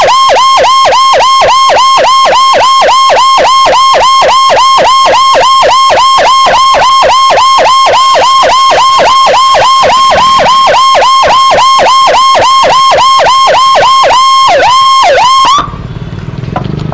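Ambulance siren wailing loud and close in a steady rapid yelp carrying a patient on a road, cycling evenly for about fifteen seconds before cutting off abruptly, leaving faint traffic rumble behind.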